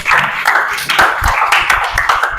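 Classroom applause for a student presentation group, a dense patter of many hands clapping close by, steady and lively throughout.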